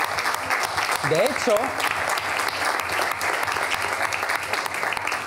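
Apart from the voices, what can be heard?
audience applause for Mar Omedas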